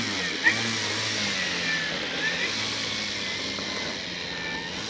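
The 20cc gas engine of a Hangar 9 Valiant RC plane drones steadily in flight, a sustained buzzing whine that shifts slightly in pitch as it passes at moderate distance, with wind noise underneath.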